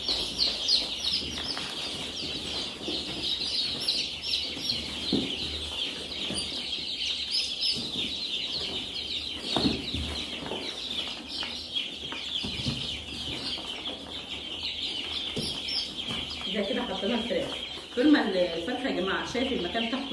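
Four-day-old local breed chicks chirp steadily in a small brooding space, a continuous high twittering from several birds close by, with someone talking over them throughout.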